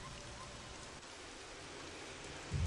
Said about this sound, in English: Get the rain to fall just right and...